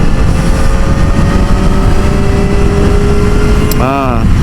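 A Kawasaki Ninja ZX4R SE runs on a highway in sixth gear, its engine a steady, loud drone under heavy wind roar, with a brief rising pitch sweep near the end.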